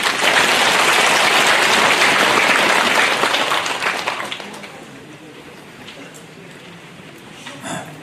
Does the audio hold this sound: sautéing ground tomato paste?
no